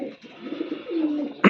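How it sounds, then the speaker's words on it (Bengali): A female pigeon imported from Oman coos close by in a soft, low, rolling call, followed by a brief sharp noise at the end. "এ হচ্ছে মাদি কবুতর।"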